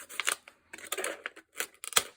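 Scissors snip through wire and paper in a series of short, sharp cuts, close and fairly quiet, with brief pauses between clusters of snips.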